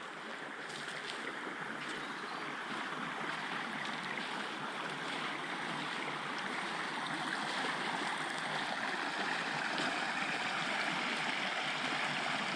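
A shallow creek beside a small sandy beach in southern New South Wales, Australia, its water rushing in a steady, close, continuous wash with no voices.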